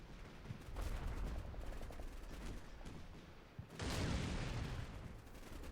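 Mortar teams firing in the tactical war game Combat Mission Cold War, a dense, continuous barrage of booms and crackling blasts, fairly quiet and distant, with a heavier surge of explosions near the end.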